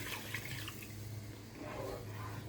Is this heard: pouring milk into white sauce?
yes